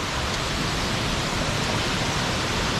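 Laktas Falls, a waterfall at Ibona in Dingalan, Aurora, gives a steady, dense roar of rushing water, loud and unbroken throughout, with no talking.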